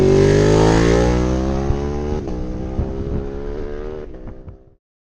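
The engine of a Ducati 959 Panigale motorcycle winds down from a loud, high-revving drone, dropping through gear-change dips over several seconds until it cuts off near the end.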